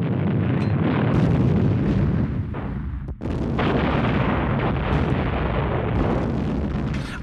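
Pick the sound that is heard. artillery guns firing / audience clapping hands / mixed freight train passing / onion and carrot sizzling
artillery guns firing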